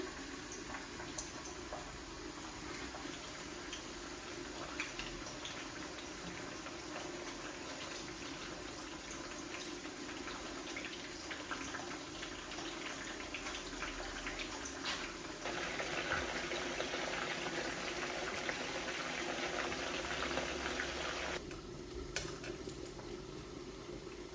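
Pomfret fish cooking in leftover frying oil in a pan, giving a steady sizzling, bubbling hiss that runs unbroken for the whole stretch, growing slightly louder and denser partway through, with no talking.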